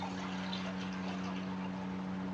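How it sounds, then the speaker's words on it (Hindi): A litre of water poured into a kadhai on a medium-flame stove, a soft, continuous splashing pour over a steady low hum. "ऊपर मैंने कढ़ाई रख ली है। 1 लीटर पानी इसमें मैंने डालना है।"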